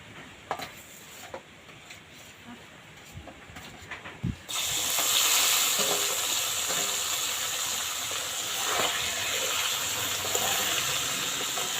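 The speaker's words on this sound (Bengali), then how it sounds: "কই মাছগুলো আমি সব তেলের মধ্যে দিয়ে দেব" Koi fish go into hot oil seasoned with salt: a few quiet clinks and taps, then a sudden loud, steady hissing sizzle that fills the rest of the clip, close and without speech.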